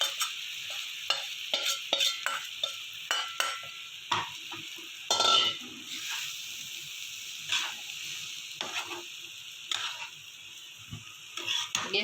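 Sev khamani with green chillies tossed in a hot pan, a steady sizzle under repeated scraping stirs and light utensil clinks, close and moderately loud.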